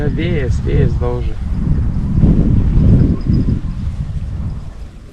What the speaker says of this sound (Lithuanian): Vėjas daužia.